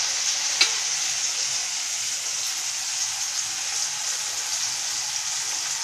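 Ground spices stirred into a softened onion and tomato masala frying in a pan give a steady, bright sizzle throughout, with one short tap of the spoon early on and no talking.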